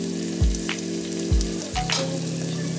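Spices frying with softened tomatoes in a pan for methi moong dal, a steady close sizzle with a few louder stirring surges, no talking.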